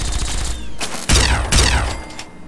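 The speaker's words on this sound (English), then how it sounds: "He's using the Gatling laser." Gatling laser firing in Fallout 3, with rapid buzzing bursts of energy shots in short volleys, loud and close, with no talk.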